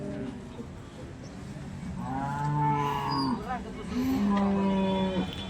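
A cow at a cattle market in Sangola gives two long, deep moos, the second following the first closely, heard near and loud over faint background murmur.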